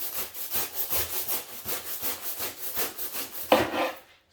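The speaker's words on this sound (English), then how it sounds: "I'm going to saw just a tiny bit off each side because there's no way I can fit it back in that pot" Hand saw cutting a slice off the side of a bonsai root ball in soil, steady rhythmic back-and-forth strokes, about three per second, close and clear, ending with a rougher final pull.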